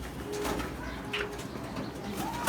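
Pigeons resting at a pigeon farm coo softly in short low murmurs amid background shuffling and faint chirps, with a slightly louder coo toward the end.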